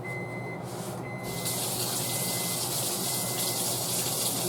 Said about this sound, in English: Do a quick rinse of my whisk.